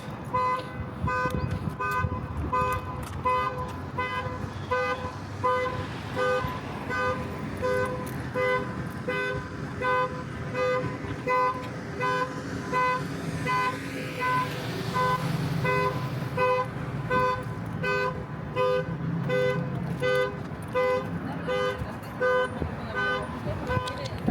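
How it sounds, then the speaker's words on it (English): A parked car's alarm blares outdoors in a repeating electronic tone pattern, steady and moderately distant throughout, with people talking nearby. "Someone's car is going off."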